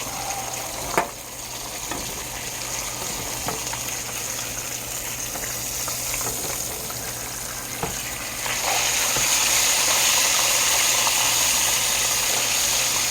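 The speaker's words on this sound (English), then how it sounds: "It's nice and fried on both sides. Here's what I'm going to do. I'm going to throw it in this tray here." Thick cut pork chops fry in hot grease with a steady, close, dense sizzle that runs the whole way through and grows noticeably louder and hissier in the last few seconds, with no talking.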